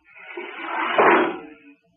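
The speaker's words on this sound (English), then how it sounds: "Close the outer door." An outer hatch door on a spaceship closes in a 1950 radio science-fiction drama, a single drawn-out scraping slide building to a heavy shut in the middle, then fading, with no voices.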